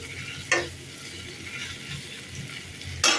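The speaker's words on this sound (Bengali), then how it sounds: "এবার ফুলকপি আর আলুটাকে এর মধ্যে দিয়ে ভালো করে মশলার সঙ্গে কষিয়ে নেব" Cauliflower and potato sautéing with spices in a pan, a steady soft sizzle broken by two brief scraping stirs, one early and one near the end, with no voices.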